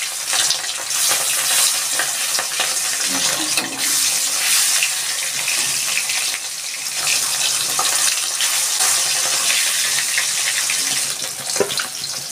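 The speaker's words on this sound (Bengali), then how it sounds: "তেলটা গরম হয়ে গেছে, আমি দিয়ে দিচ্ছি মাছগুলো" Bhola fish fry in hot oil with a loud, sustained sizzle and spattering hiss throughout, close up and steady with no voices.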